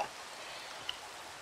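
Rain falling in Minecraft during a One Block survival game, a faint, steady soft hiss with no clear drops or breaks.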